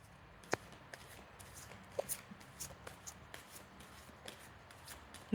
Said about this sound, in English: So let me just do a couple more shuffles here.